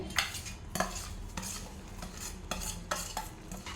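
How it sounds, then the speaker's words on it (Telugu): A spoon scrapes and stirs semolina into boiling water in a pot, in rhythmic strokes roughly every half second, close by and without talk. "మరుగుతున్నాయి కదా, ఇప్పుడు ఇందులో ఈ రవ్వ వేసేసుకోవాలి"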